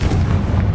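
A blast from the Confringo explosion spell in a Harry Potter game: one brief, heavy, low boom, loud and close, with a dense rumbling roar.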